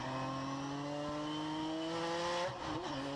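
A 1988 Nissan 300ZX Turbo race car drives a parade lap on a track, its engine holding a loud, steady drone that climbs slowly in pitch, then drops and wavers briefly near the end.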